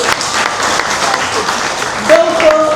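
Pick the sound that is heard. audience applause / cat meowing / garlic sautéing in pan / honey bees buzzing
audience applause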